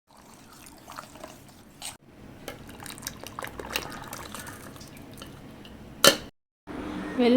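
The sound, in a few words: jaggery water poured into cooked moong dal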